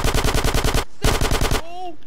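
Automatic gunfire rattles in GTA San Andreas, two loud close bursts of rapid shots split by a short gap, with a brief electronic tone afterward.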